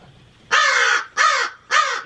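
A crow caws three times in close succession, loud and near, each call harsh and drawn out with short gaps between, no voices present.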